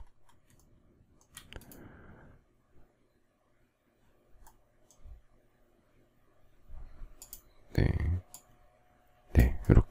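A few sharp mouse clicks while refreshing 3D rendering software during a SketchUp and Twinmotion modeling session, spaced apart with quiet, faint room tone between them and a louder cluster near the end.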